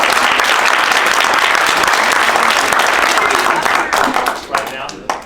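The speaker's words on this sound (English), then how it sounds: "But let's give a round of applause." Meeting audience applauds a Sparks city councilman with a full, steady round of clapping that thins into scattered claps near the end, with a voice starting to talk.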